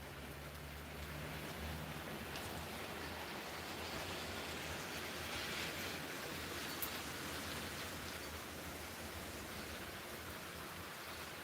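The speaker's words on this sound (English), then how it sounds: "I'm just waiting for the rain to end now" Steady rain falls outdoors as a continuous, even hiss, fairly loud and unbroken for the whole stretch, with a low rumble underneath and no voices over it.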